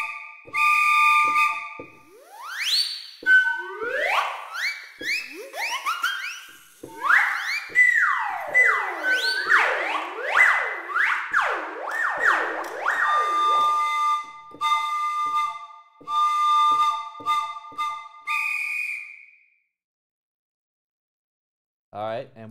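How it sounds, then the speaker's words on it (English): Sampled whistle effects from a CinePerc PRO percussion library play in turn: a chordal train whistle, rising and falling siren-like sweeps and gliding slide-whistle tones in repeated bursts, then silence with a brief final sound. "train, siren, and slide whistle."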